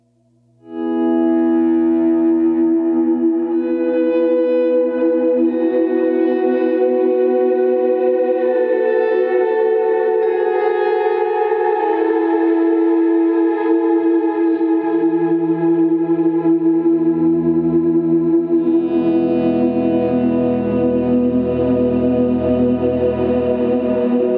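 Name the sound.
Line 6 POD Go Particle Verb swell effect on guitar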